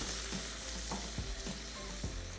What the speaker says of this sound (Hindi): हल्का सा फ्राई करना है इसको ऑयल में।